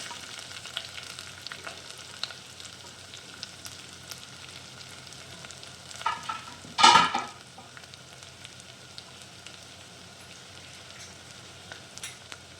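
Carrots and onions for upma sizzle softly in a pan, with a quiet, steady frying hiss. A louder burst of stirring and scraping comes about halfway through, and a faint knock comes near the end. No one speaks.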